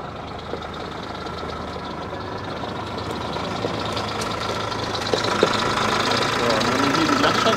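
A Fendt Xylon tractor engine pulls away in second gear with its handbrake released, giving a steady mid-pitched diesel rumble that swells slightly over several seconds, with occasional mechanical clunks.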